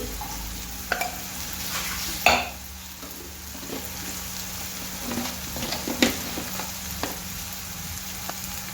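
Onion frying in a pan with turmeric and spices, a soft continuous sizzle with occasional sharp scrapes and clinks from a stirring spoon, close by and without speech.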